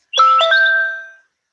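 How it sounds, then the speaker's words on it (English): A phone text message notification chime sounds once as a clear, close, multi-note electronic ding that rings out and fades within about a second, alone. "I know y'all are hearing this chiming every time I get a text"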